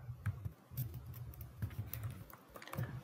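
Rapid clicks from a computer keyboard being typed on, in short uneven bursts with brief pauses, fairly quiet and close, with no talking.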